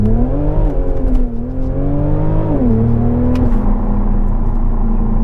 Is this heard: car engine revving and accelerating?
yes